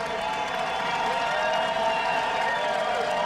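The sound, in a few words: golf crowd applause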